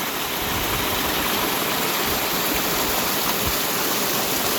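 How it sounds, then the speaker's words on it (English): A small waterfall at a rock shelter on a hiking trail at Frozen Head State Park in Eastern Tennessee rushes steadily right at the listener's feet, a close, loud, constant broadband roar with no voices. "And a nice waterfall, small one, right at our feet here."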